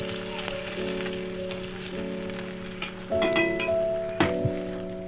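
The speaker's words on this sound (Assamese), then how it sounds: "এটা জলকীয়া দিছোঁ, এইখিনি অলপ ভাজি ল'ব লাগিব" Onions and green chili frying in hot oil give a steady, moderate sizzle that runs throughout, with a sustained tonal drone underneath and a few brief louder crackles near the end.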